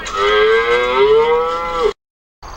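On a French homestead farm, a cow lets out one long, loud, close moo that slides down in pitch as it goes. It cuts off sharply into silence, and a brief sound starts again at the very end.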